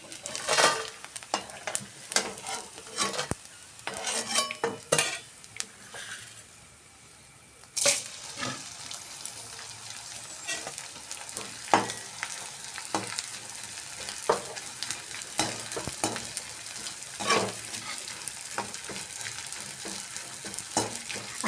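Pieces of edible gum puffing up in hot ghee over medium heat give a steady, close sizzle and crackle. Repeated stirring clatters sound throughout, with a brief lull partway through and no talking.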